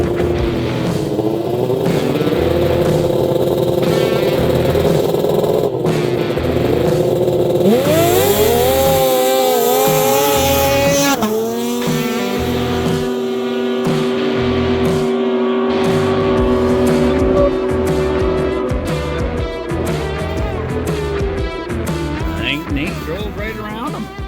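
Engines of a 150 mph drag race against a Dodge Viper, loud sustained roaring with rising revs and gear changes, close and continuous throughout.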